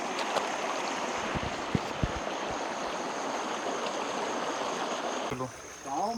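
A river in the Uttarakhand hills rushes steadily in a continuous broadband wash, close and fairly loud throughout, with a brief dip near the end where a faint voice-like sound briefly surfaces.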